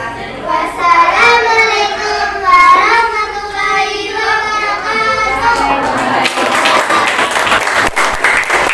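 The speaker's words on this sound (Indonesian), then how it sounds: "Boleh tepuk tangannya sekali lagi untuk menambah semangat." Audience applause at a primary school grade 6 farewell ceremony, sustained clapping from a crowd that swells near the end, with a voice talking over the first part.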